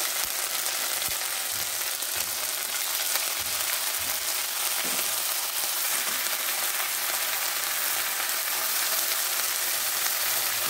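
Onion paste fries with ginger in a pan for a tilapia fish dish, giving a constant, dense, even sizzle like steady rain, loud and uninterrupted, with no voices.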